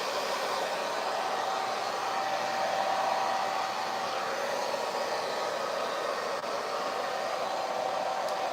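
A hair dryer on a low setting dries curled hair, its steady airy whir running continuously and close up with no talk over it.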